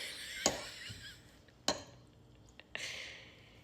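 Someone rummages through a drawer of metal cutlery hunting for a spoon, giving three or four sharp clinks and rattles spread apart, with quieter shuffling between them, close by and fairly soft.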